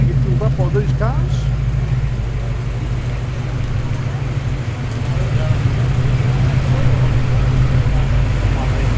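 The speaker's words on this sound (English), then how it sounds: "Nice burble of a V8." V8-powered Australian car show cars, including a VL, rumble at idle as they roll into parking spots in Sydney, a steady deep burble running throughout with background chatter and traffic.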